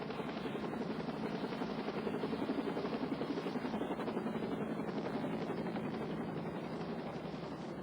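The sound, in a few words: medical life flight helicopter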